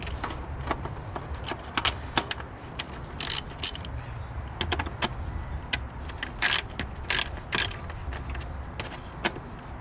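A bolt being tightened with a ratchet during radiator installation on a 1998 Toyota Camry 2.2, rapid close clicking bursts in irregular runs over a low background hum.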